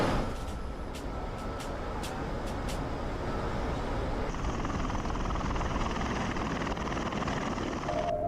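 A Bell Boeing V-22 Osprey tiltrotor aircraft flies toward Al-Assad airfield in Iraq, its rotors producing a steady loud throbbing roar that holds throughout, with a higher whine joining partway through.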